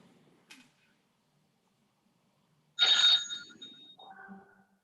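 An outgoing phone call placed during an online meeting, with a click, then a brief electronic ring tone and a softer second tone, heard faintly over near silence.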